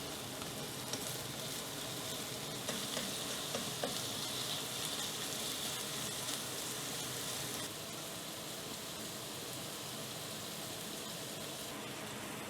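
Sliced mushrooms, cut fairly thick, fry in a pan with a steady broadband sizzle that crackles and pops throughout and eases slightly partway through, close and alone with no talk.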